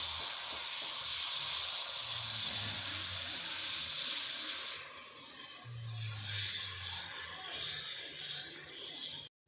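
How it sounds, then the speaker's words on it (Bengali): Jalebi frying in hot white oil in a wok: a steady, loud sizzling hiss that bubbles continuously, with a faint low hum underneath. "কড়াইতে তেল দিয়েছি সাদা তেল তেলটা ভালোভাবে গরম করে নিয়েছি এবার আমি জিলাপিগুলো ভেজে নেব"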